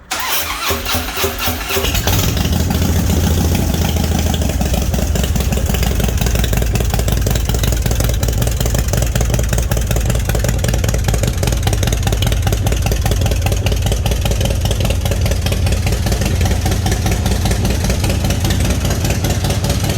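A Harley-Davidson Screaming Eagle CVO motorcycle engine cranks and catches, then settles into a loud, close, steady idle with a rapid lumpy pulse that continues unbroken.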